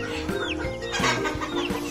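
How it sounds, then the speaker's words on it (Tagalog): Several chickens cluck and chatter close by on a farm, with bantam birds among them at feeding time, a dense overlapping flock sound with repeated short calls and no talking. "Maraming manok dito."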